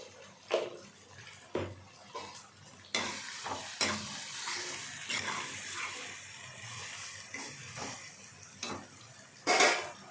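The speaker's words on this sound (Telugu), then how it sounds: "ఇప్పుడు తరిగి పెట్టుకున్న టమాటాలు పోస్తున్నాం." Chopped tomatoes tip into a pan of crab gravy, then a spoon stirs and scrapes the pot with a steady sizzle and clanks of metal utensils, close and fairly quiet, with no speech.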